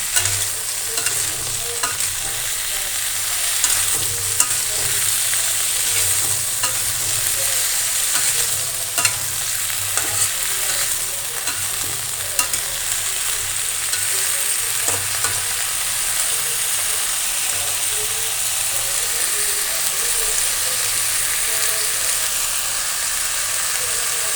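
Vegetables for khichuri fry in a pan while being stirred, giving a loud, continuous sizzle with scraping strokes of the spoon throughout, and no one talking.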